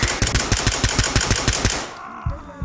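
Automatic gunfire in the tactical shooter Ready Or Not, a rapid even burst of about a dozen loud shots fired through a wall, stopping abruptly and followed by a couple of quieter thuds.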